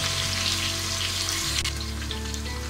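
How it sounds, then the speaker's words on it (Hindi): Chopped onion fries in hot ghee, giving a steady dense sizzle and crackle that holds loud and close from start to finish, with no talking. "ऑयल के अंदर हम डाल देंगे प्याज, 1 दरमियाना प्याज हमने काट लिया है।"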